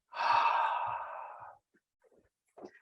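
A slow, sighing exhale during a qigong breathing exercise, one long breath out lasting about a second and a half, close and clear, followed by faint small breathy sounds and a short breath near the end.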